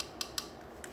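Scissors snipping through paper while trimming a curved edge for a greeting card, three crisp close cuts in about a second with no one talking.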